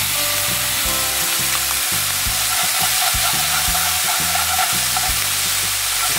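An egg fries in a hot wok for Singapore chow mein, giving a loud, steady sizzle broken by regular scraping stir strokes.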